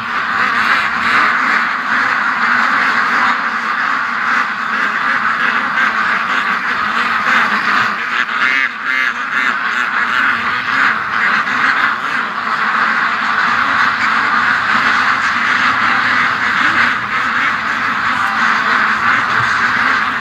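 A dense, continuous chorus of ducks quacking over one another, loud and steady throughout.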